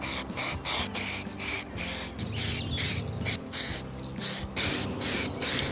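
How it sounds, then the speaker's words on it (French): An aerosol spray can paints a car part in a series of short hissing bursts, each spray pulse loud and close, repeating steadily with brief pauses between them. "On va appliquer la peinture."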